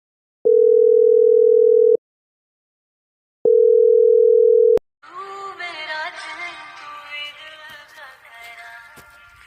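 Two long steady electronic tones of a phone ringback, each about a second and a half with a pause between, followed by busy mixed noise.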